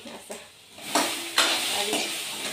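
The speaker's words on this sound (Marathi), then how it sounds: "वटाणा टाकलाय, वटाणा भाजून घेते पहिला. भाजते ह्याला मी असं." Green peas are stirred and dry-roasted in a pan, making close scraping rustles that come in a few short bursts over a soft sizzle, with no voices.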